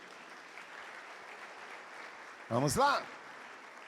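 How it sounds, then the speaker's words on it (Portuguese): A church congregation bursts into applause for about half a second, loud and close, with a voice speaking over the clapping. "Vamos aplaudir ao Senhor por isto."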